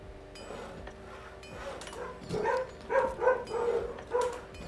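Dogs in the video game 7 Days to Die barking in a rapid cluster of several close, sharp yips and barks that build toward the end over low game ambience.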